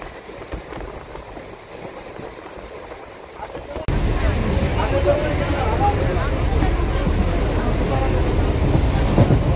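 Train pulling out of Ranaghat and running steadily, a broad rumble that jumps louder partway through and holds, with a faint voice mixed into the rolling noise.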